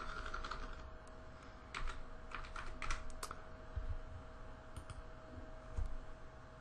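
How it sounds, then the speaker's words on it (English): Typing on a computer keyboard while working with an Android emulator interface, a steady stream of light, quick clicking keystrokes in irregular bursts, close and clear, with no talking. "Oh, I was typing on my keyboard."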